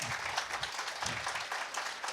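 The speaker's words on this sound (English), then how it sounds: "a good round of applause" Audience applause after a technical conference talk on QUIC and HTTP/3: a steady, dense patter of many hands clapping at moderate level, continuous for the whole stretch with no voices.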